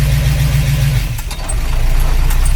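A 1953 Oldsmobile Rocket Super 88, a barn find, idles steadily in a parking lot, a loud low rumble that dips briefly and then settles back to an even, continuous drone with no talking.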